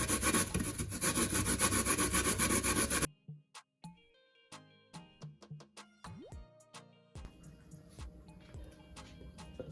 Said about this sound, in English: You just take your time and you grate until everything is all done.